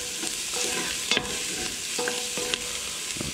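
Garlic sizzles steadily in a hot pan for spaghetti sauce, a close, continuous hiss broken by a few brief scrapes and clinks of stirring.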